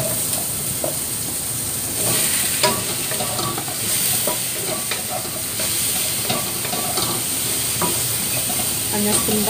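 Food stir-fried in a wok for a Hong Kong-style dish, with a steady loud sizzle and hiss, broken by repeated scraping and clattering strokes of a spatula throughout.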